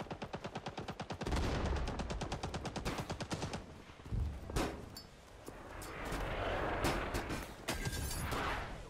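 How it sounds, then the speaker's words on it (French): Machine gun fire in the Winter War video game Talvisota, starting as a rapid, evenly spaced burst of shots and then giving way to a dense mix of gunfire, blasts and scattered single shots with no voices. "C'est la mitrailleuse."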